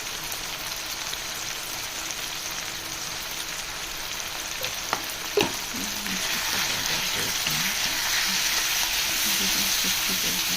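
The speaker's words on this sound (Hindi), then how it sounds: "अच्छी तरीके से भून लेना है।" Chicken curry masala with turmeric and red chili frying in a pan, a steady close sizzle that swells louder midway, with a couple of brief clatters from stirring.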